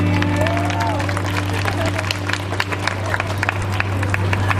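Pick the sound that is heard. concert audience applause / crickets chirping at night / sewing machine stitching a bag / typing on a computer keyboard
concert audience applause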